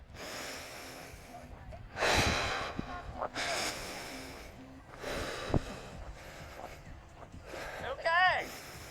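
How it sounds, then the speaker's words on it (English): Hard breathing after a 20-second sprint interval: loud, forceful exhales through the mouth come in separate bursts every second or two, close to the microphone. "Exhale through your mouth"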